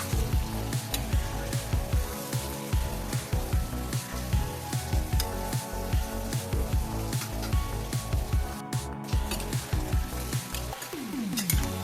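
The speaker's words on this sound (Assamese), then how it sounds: "এনেদৰে মাংসখিনি মই এতিয়া দি যাম কেৰাহীত" Meat tipped into hot oil in a wok sizzles loudly and continuously, with a crackling, pulsing fry close up and no voices.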